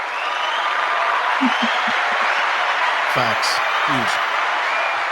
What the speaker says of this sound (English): one more round of applause for Ms. Reuther on that